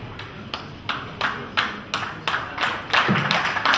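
Applause for an award laureate at a ceremony: clapping in a loose, regular pulse of bursts roughly twice a second, moderately near, thickening toward the end, with no voices.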